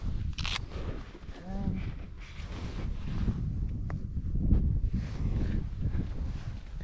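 Gusting wind on a golf course in Egersund, Norway, a steady rumbling buffet across the microphone that swells and eases throughout, fairly loud and close, with faint rustling mixed in.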